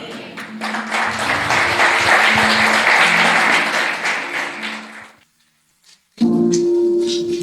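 Church congregation applauding after a prayer, loud dense clapping with a steady musical tone underneath that lasts about five seconds, drops to near silence, then gives way to music returning.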